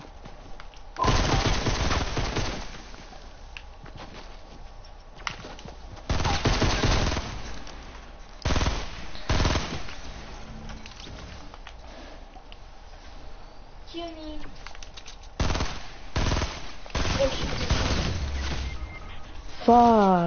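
Repeated bursts of automatic gunfire in the video game Fortnite, several loud rapid volleys separated by pauses, with excited voices shouting over the shooting.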